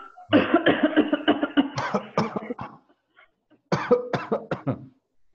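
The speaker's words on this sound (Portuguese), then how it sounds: "Vou simular a tosse aqui." Someone gives a run of forced coughs in two bursts, with a short quiet pause between them.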